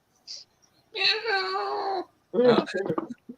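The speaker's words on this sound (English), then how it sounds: "My wife heard the meowing" A cat lets out a short chirp, then a long drawn-out meow, followed by a broken, wavering cry, close and fairly loud.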